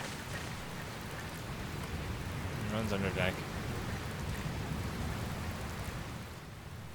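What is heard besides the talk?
rain in Dragon Quest Builders 2 video game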